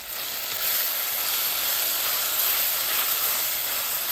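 Ginger garlic paste sizzling in a hot pan with tomatoes for a Sri Lankan-style mutton leg curry, a steady, loud broadband hiss holding evenly throughout with no talk.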